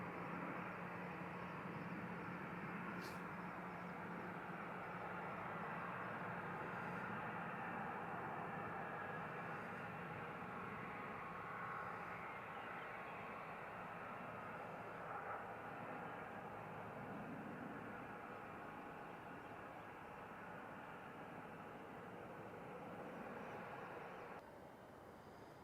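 A Gulfstream G5 business jet departs Centennial Airport on a sunny morning, its engine roar a steady, distant, broad rumble and hiss that holds for about twenty-five seconds before easing slightly at the end.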